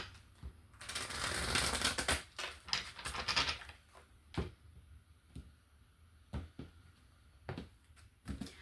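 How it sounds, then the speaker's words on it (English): A deck of tarot cards is shuffled up close, with a dense burst of riffling and flicking followed by several short, sharp card snaps spaced apart over quiet. "One more shuffle."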